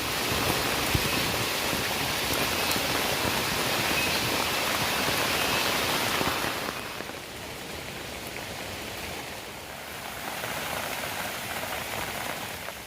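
Steady rain falls on a Kerala village, a dense hiss of drops on surfaces that softens partway through and then swells again, with no talking.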